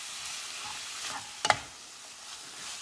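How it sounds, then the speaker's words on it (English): Beef and vegetables sizzle steadily in a hot skillet close up, with a couple of sharp scraping stirs partway through. "You notice how the sizzle slowed down because I put the cold vegetables in"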